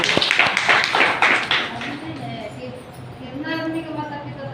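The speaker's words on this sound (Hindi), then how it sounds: "एक बार इनके लिए ताली बजा दीजिए भैया" Audience at a network-marketing meeting clapping in a short burst of quick hand claps, fading within about two seconds as a voice continues speaking over and after it.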